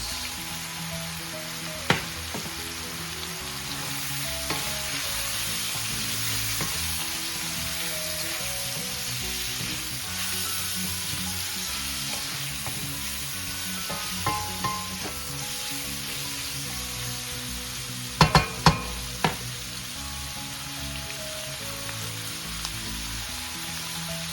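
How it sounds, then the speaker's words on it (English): Carrots stir-fry in a pan for saucy pancit canton egg noodles, a continuous close sizzle like light rain, broken by occasional utensil clicks and scrapes against the pan. "Let's add as well our carrots."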